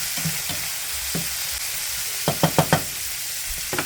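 Onions and rice being stirred in a hot frying pan, with a steady background sizzle and a run of spoon scrapes and knocks against the pan that quicken into a rapid series toward the end.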